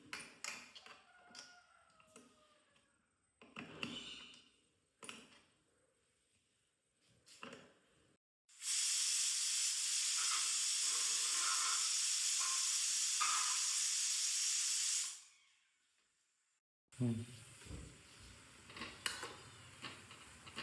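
A pressure cooker hissing out steam, a loud continuous rushing hiss lasting several seconds that then cuts off, with quieter kitchen clatter before and after.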